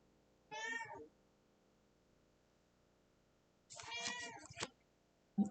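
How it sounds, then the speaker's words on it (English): A house cat meows twice, close and fairly loud, with a few seconds of quiet between the two calls. "I got distracted by the cat"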